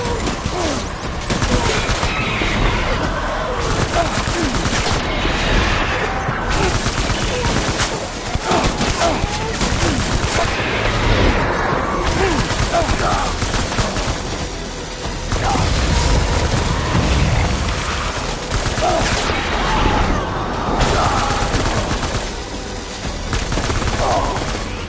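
Sustained gunfire from a Death Stranding firefight: dense, continuous bursts and clattering mechanical noise, loud and close for the whole stretch, with brief dips, shouted voices mixed in.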